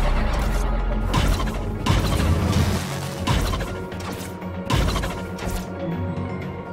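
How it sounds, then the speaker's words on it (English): The great Fomori machine collapses in the Song of the Deep game with a dense, sustained wall of crashing and clanking metal. Heavy booming hits recur every second or two, loud and continuous throughout, with no voices. "As the last piece of the great Fomori machine collapsed, Merrin heard the sounds of distant turbines"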